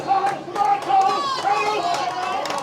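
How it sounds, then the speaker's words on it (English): Hurling crowd at a county final, a steady roar of cheering and clapping from spectators on the bank, with shouts and voices rising and falling throughout. "A lot of applauding and cheering up for our players here"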